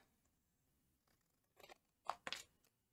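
Scissors snip through material in a few quick, close cuts, quiet at first and then two sharper, louder snips near the end, with no talking.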